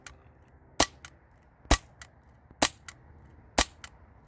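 CO2-powered Glock 19 replica BB pistol in .177 caliber firing, four sharp loud cracks at roughly one-second intervals, each followed by a fainter click, close by with no talk.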